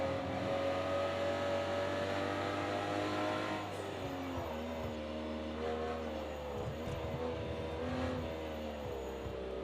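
Aston Martin DB11 driven hard around Bathurst in Project Cars 2, its engine droning steadily with rising and falling pitch as the revs climb and drop through corners, loud and continuous throughout.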